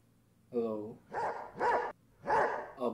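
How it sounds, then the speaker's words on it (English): A dog barks several times in short, separate bursts, close and fairly loud, with quiet pauses between them. "What are you barking about?"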